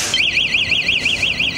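A small personal rape alarm made by a Cambridgeshire business sounds a loud, piercing electronic siren that warbles up and down rapidly and steadily throughout, with no other sound over it.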